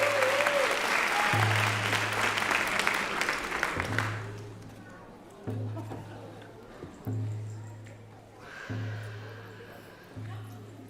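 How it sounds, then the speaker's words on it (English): Audience applause at a Celebration 2026 stage event honoring a young girl, loud and dense at first, then thinning into scattered claps over about four seconds, with a low steady hum and a voice talking over it. "One more warm applause for Indy,"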